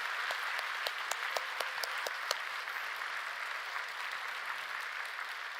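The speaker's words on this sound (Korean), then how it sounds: "우리 청년들을 위해서도 박수 한번 치겠습니다." A church congregation at a Friday night worship service applauds the young adults, a full, steady wash of many hands with a few distinct sharp claps standing out early, sustained evenly to the end.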